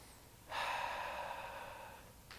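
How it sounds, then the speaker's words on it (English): A single slow, soft breath drawn during a Pilates exercise, heard close and quiet for about a second and a half against a hushed room. "We'll take about 2 breaths."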